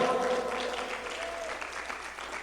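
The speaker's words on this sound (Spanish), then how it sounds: "Dele un aplauso al Señor." Congregation clapping in a church service, a steady patter of many hands at moderate distance, with a brief voice at the start and a low hum beneath.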